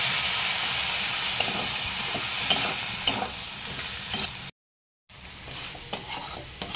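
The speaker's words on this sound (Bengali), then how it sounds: "দিয়ে মশলাটাকে ভালো করে কষিয়ে নেব।" Spice paste of turmeric, chilli powder and ginger with a splash of water fries loudly in a pan as it is stirred, a continuous hiss with scraping strokes, cut by a brief silent gap.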